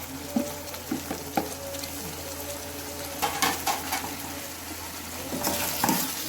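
A pan of mushroom fry on the stove, seasoned with pepper powder, garam masala, chili powder and turmeric, is stirred: a steady close sizzle with irregular scraping and clacking strokes from the spoon against the pan.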